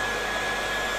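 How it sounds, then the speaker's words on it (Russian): A Zubr FT-P1600 heat gun blowing steadily, a constant close whooshing roar with an even tone and no breaks. "фен работает."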